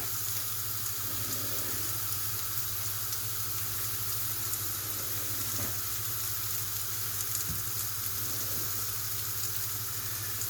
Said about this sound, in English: take her steak and whack it in there, and just love the sound of the sizzling